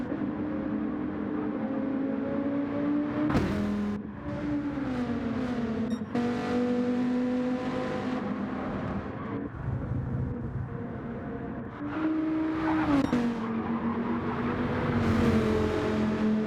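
Race cars lapping Willow Springs in a racing video game, steady engine drone with rising and falling pitch through gear shifts and several loud revving passes, continuing throughout without talk.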